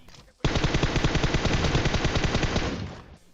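Sustained automatic gunfire in the mobile game PUBG Mobile, a continuous rapid burst of shots lasting about two and a half seconds, loud and close, starting abruptly and tapering off at the end.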